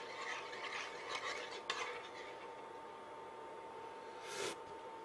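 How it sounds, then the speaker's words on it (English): Spoon stirring sugar into a sauce to dissolve it, a soft scraping and swishing against the pot with faint clinks, quiet and close, ending in a brief louder scrape. "Let me dissolve this sugar a little bit."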